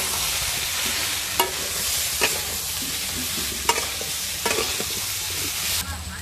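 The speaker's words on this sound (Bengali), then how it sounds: "আমলকিগুলো ভালো করে নেড়ে নিয়েছি।" Amla pickle is stirred and fried in a pan. A continuous sizzle runs under repeated sharp clicks and scrapes of the spoon against the pan, fairly close and with no talk.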